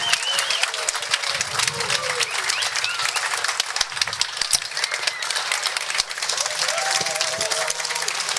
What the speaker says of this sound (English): let's give a huge round of applause for Mr. and Mrs. Harry and Gloria Myers.